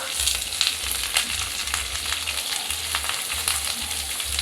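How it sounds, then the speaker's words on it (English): Onions and potatoes fry in a pan, a steady close sizzle with scattered crackles and soft stirring scrapes throughout, no voices. "I've added my onion and I'm now giving it a toast so I'm letting the onions cook"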